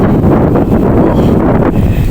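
Steady wind roaring across the microphone, a dense low rumble with gusty buffeting that never lets up over the whole stretch.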